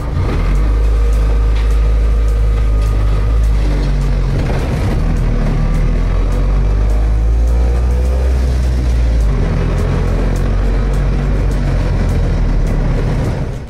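A communist-era Barkas B1000 van drives along, its engine droning loud and close with a steady low rumble, shifting pitch as it revs and slows midway, then picks up again.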